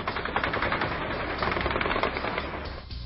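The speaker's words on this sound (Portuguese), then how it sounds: "Da varanda deste apartamento no Méier, dava para ouvir o intenso tiroteio" Intense gunfire from a police chase in the Méier and Lins area of Rio de Janeiro, heard from an apartment balcony, comes as rapid, dense bursts of shots crackling continuously and fairly distant, with no talking.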